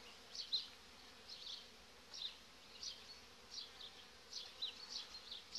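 Honey bees from a gentle colony in an apiary make a soft, close buzzing that swells and fades in small irregular pulses over a quiet background, with no voices.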